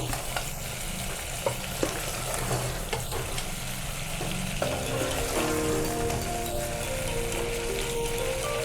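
Stuffed eggplant and potatoes sizzle steadily while being slowly stirred in a pan, with scraping spoon strokes over a continuous fry hiss; a brighter bubbling texture builds in the second half.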